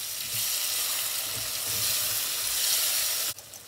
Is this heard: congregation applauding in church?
no